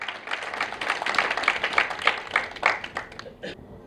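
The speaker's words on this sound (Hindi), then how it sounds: "तशरीफ़ ला रहे हैं आपके तालियों के साथ साहबजादा अतीकुर रहमान" Moderate, quick clapping from an audience welcoming a poet at an Urdu mushaira, individual claps audible in a steady run that thins out toward the end.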